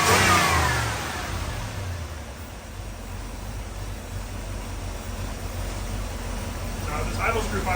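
A crate motor swapped into a car runs steadily at idle, a continuous close mid-frequency engine drone with a brief louder rev at the start, no misfires, and faint clicks near the end.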